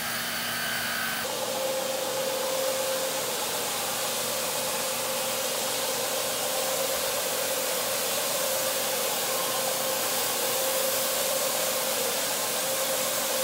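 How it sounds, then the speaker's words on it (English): A small 10-inch brush floor scrubber fitted with a Kylan grout brush runs steadily over tile, giving a continuous loud motor whir and broadband brushing noise that shifts slightly in pitch after the first second. "All right, so we're gonna run the brush throw and go from there."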